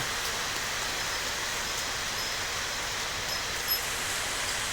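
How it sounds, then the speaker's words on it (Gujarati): Light rain falling steadily over open farm fields in a village, a soft even hiss with no distinct drops or other sounds, moderately quiet throughout. "આજ વરસાદ જોઈ લો ધીમી ધારે વરે"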